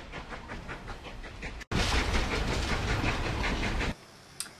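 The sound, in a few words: train on railroad tracks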